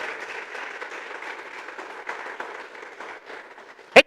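Congregation clapping in a church service, a soft, fairly distant patter of many hands that holds steady for several seconds before a sharp, loud knock right at the end.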